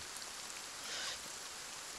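Steady rain falls in the video game Kingdom: Two Crowns, a soft, even hiss of drops that stays faint and continuous without any talk over it.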